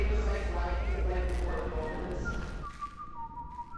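A monster in the horror video game Forewarned, met in the Secret Temple of Ptah, whistles a loud, wavering tune that sits over game noise and then gives way to a thinner, higher sustained whistle near the end.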